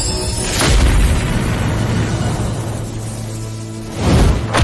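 Heavy booming impacts from an explosive punch in an animated martial fantasy battle, a loud blast opening the clip, a sustained rumbling roar, then a second deep boom near the end.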